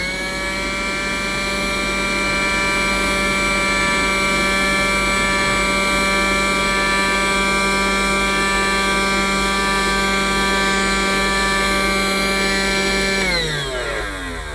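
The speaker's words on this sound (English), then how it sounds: "I'm first going to test this Bosch Unlimited using the bare nozzle attached to the end of the cleaner" A Bosch Unlimited toy cordless vacuum cleaner, a Theo Klein toy fitted with its bare nozzle, hums steadily and close up with a high buzzing motor tone while it picks up beads. Near the end the tone drops as it winds down.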